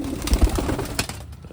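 Pigeons in a loft give soft, throaty cooing close by, a few overlapping calls in uneven bursts, with a faint rustle of movement.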